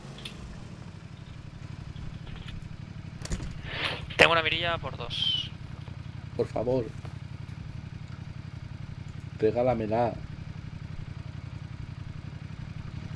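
A motorcycle idles in the video game PlayerUnknown's Battlegrounds, a steady low engine hum running under several people talking over it.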